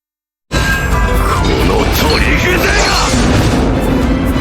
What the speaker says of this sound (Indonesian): Ledakannya dahsyat banget, sampai bikin langit jadi putih, saking terangnya.